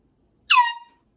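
A single short honk from a horn, bright and squeaky, fading quickly into silence; it sounds weak and thin rather than full.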